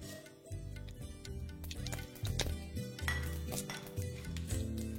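Whole spices, including small and large cardamom, mace, a cinnamon piece, shahi jeera and black peppercorns, crackling in hot ghee, a busy run of close sizzling pops and small clinks throughout, with no speech.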